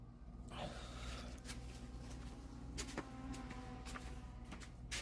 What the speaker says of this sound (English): I was like, dude, that sounds like a swarm of bees. Somebody's flying a drone.